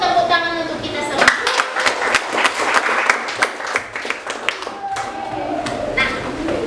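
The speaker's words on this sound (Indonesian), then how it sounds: "Kalau begitu tepuk tangan untuk kita semua." A classroom of students claps together in a sustained round of applause, rapid dense clapping near and far, with speech-like voices mixed in throughout.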